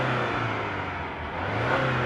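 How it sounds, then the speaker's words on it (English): A car engine revved in neutral, a steady loud mid-pitched roar with a low drone, heard from outside the car with no talking. "Put it in neutral and rev"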